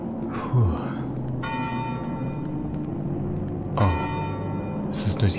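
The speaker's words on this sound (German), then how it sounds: "Nur die Kirchenglocke." A church bell tolls in the horror video game Cry of Fear. Two resonant strikes sound several seconds apart and ring out over a low, murky ambient drone, with faint bursts of low voice.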